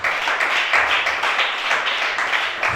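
A congregation at a prophetic church worship service claps and applauds together, a dense, loud and continuous wash of many hands that swells slightly in waves throughout, with no voices standing out.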